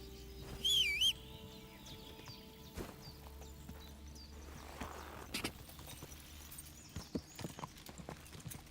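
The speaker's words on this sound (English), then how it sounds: "Ei, que cavalo doido." Horse hooves clip-clop in Kingdom Come: Deliverance II, a faint, uneven series of close hoofbeats on the ground, with a brief high whistle-like call near the start and quiet ambient noise around it.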